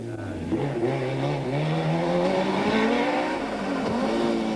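Rally car driven hard around tight traffic circles at the 1988 Tour De Valvoline near Pietermaritzburg, its engine revving and rising in pitch, held close and loud throughout with a hint of tire noise.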